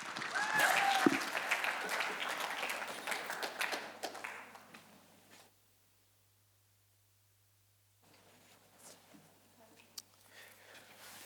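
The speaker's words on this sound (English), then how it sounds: "everyone, round of applause for Noah Fefita" Audience claps for a speaker at the Pasifika Voices Otago speech competition, a brisk burst of applause with a few whoops that tapers off within five seconds into silence, followed by faint room noise and a tap.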